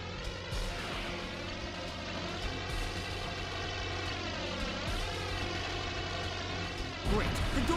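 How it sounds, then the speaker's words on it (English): A propeller plane spinning out of control in the PlayStation 1 game Spider-Man 2: Enter Electro, its engine droning steadily with a bending, wavering pitch throughout, loud and continuous under faint game sounds. "That plane's out of control."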